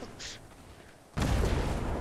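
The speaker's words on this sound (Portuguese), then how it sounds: "Explosão lá, ó." Explosion in the video game Fortnite: a sudden loud, broadband boom bursting in near the end after a quieter stretch, then sustaining briefly.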